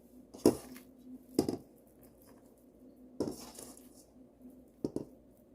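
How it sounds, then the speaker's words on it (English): A fork taps and scrapes through buttery sweet potato casserole topping in a baking dish, four sharp clinks spaced a second or more apart, close and quiet in between. "When I get it on top, I can use a fork to kind of get everything separated"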